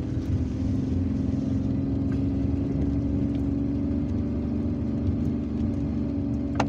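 A car engine holds a steady mid-pitched drone while climbing a steep, hilly street in Algiers on a rainy day, running continuously and fairly loud with no voices.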